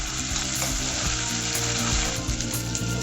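Onions fry with ginger garlic paste in a pan, giving a loud, dense, continuous sizzle heard up close, with faint stirring scrapes underneath and no voices.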